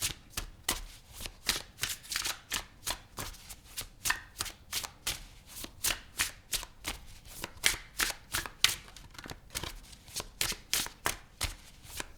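A tarot deck is shuffled over and over in a quick, steady rhythm, each riffle a sharp papery burst of flicking cards, close and clear with no talking.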